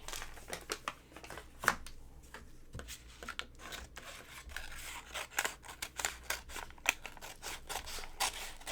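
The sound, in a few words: scissors cutting paper for mini album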